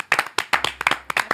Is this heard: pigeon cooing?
no